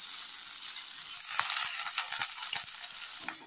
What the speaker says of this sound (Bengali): এবার ধুয়ে রাখা শাকগুলো দিয়ে দেবো